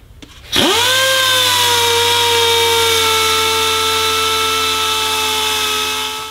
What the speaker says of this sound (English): now that we've sanded these pads down to enough to where they could fit in smoothly